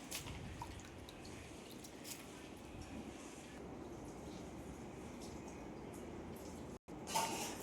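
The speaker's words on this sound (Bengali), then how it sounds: "শাকগুলো জল থেকে তুলে ছেঁকে নিচ্ছি অন্য আর একটা পাত্রে।" Red amaranth greens lifted out of water and strained into another container, with steady close dripping and trickling throughout, a brief gap near the end, then a louder splashing burst.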